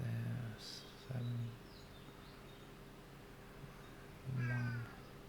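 A house cat meows several times, short low calls spaced a few seconds apart with one longer rising call near the end, fairly close and alone in a quiet room.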